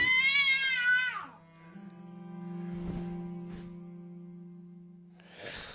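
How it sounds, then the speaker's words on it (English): A cat meows in the video game Deracine, one long drawn-out call followed by a sustained low hum and a couple of soft taps, with a brief rustle at the end. "Hello, little pussycat."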